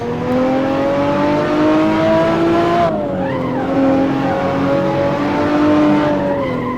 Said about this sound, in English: Listen to my gears so I know where I am gear-wise.